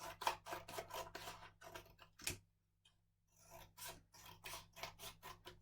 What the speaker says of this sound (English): Then I'm going to cut out my pieces.